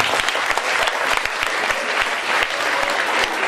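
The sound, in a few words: applause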